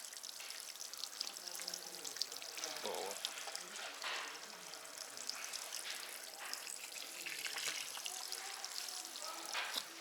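Natural mineral water flows from a spring in the resort town of Jermuk, Armenia, a soft, steady trickle and splash, faint and close, with scattered small drips and some background noise.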